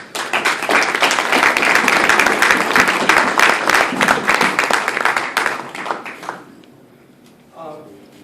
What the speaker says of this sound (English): Just give him a hand clap.